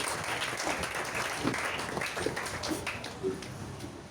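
A church congregation applauds to acclaim the Lord. The clapping is dense and sustained and holds at a steady moderate level for a few seconds.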